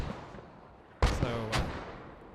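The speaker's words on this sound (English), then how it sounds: "The mortar's already coming down on the second cap." Mortar rounds landing in Post Scriptum, a WWII shooter, during a competitive match: a sharp impact followed by a second burst, mid-distance and fairly loud over a faint rumbling background.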